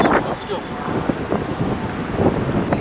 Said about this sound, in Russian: Ветер какой.